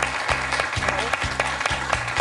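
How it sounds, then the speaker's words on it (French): Studio audience applause on a French quiz show, rhythmic crowd clapping in time with a beat of accompanying music. "Et je crois qu'on peut l'applaudir, Mathieu, pour ce joli score."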